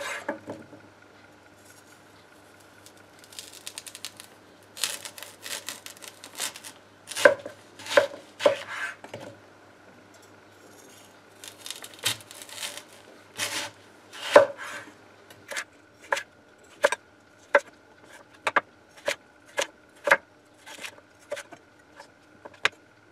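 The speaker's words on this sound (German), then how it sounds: "tupfe die etwas trocken und schneide die mir in ca. 1 cm breite Streifen" A knife slices halved sweet potatoes into strips about 1 cm wide for fries, giving crisp, close chopping strikes on a board, irregular bursts at first, then a steady run of evenly spaced single cuts.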